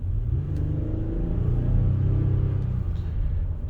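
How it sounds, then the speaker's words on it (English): Engine of a 2020 Toyota Sienna V6 minivan labouring under acceleration on a test drive, heard from the cabin as a steady low rumble and drone with a slight rise in pitch, continuous throughout. "You can hear the engine on this car laboring."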